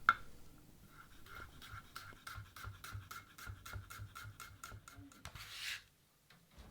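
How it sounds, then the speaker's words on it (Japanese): A knife thinly slices halved garlic on a cutting board, a quiet, close series of about a dozen evenly spaced taps and scrapes, with no talking. "ニンニクも半分に切ってエマンセにします。"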